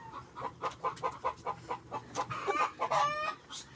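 A chicken clucks in a quick series of short, close calls, the rhythm speeding into a rising squawk near the end, fairly quiet against a faint background.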